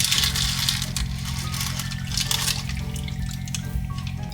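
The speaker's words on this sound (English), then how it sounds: "we're going to pour that into our crust" Lemon bar filling pours from a mixer bowl into a gluten-free keto crust in a home kitchen, a soft continuous liquid trickle and slosh heard close over a low steady appliance hum.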